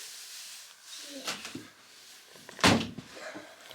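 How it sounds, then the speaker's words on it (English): A household door opens and bangs in a room with cats nearby, giving two thuds and then a sharper knock near the end, with background murmur between them. "Right, open the door then."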